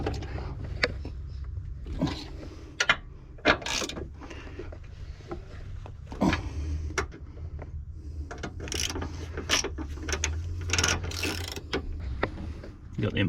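Socket wrench with a 13mm socket ratcheting bolts tight during an engine swap on a 2008 Nissan X-Trail T31 2.5 litre, repeated clicking bursts of the pawl close by over a steady low background hum.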